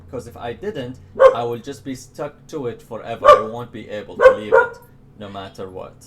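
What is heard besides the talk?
dogs barking in the background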